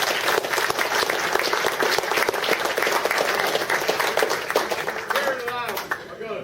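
Steady, fairly loud applause comes from an audience at a reunion forum for former prisoners of war. The clapping thins out toward the end as a voice begins speaking.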